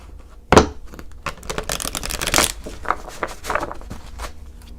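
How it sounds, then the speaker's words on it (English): Tarot cards are shuffled close up: a sharp snap, then a quick run of crisp riffling and shuffling clicks that thins out over a few seconds. "One more quick shuffle."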